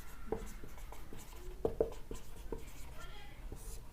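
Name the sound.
writing the remainder on a board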